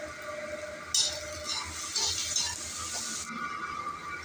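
Onions fry in a pan with salt and turmeric, giving a steady hiss and crackle that swells briefly in the middle, with no talking.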